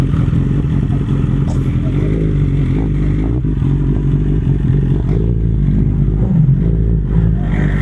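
A 2021 BMW S1000XR motorcycle with an Akrapovic exhaust idles and revs in a loud, continuous low rumble with slight throttle swells, close by, with voices talking faintly underneath.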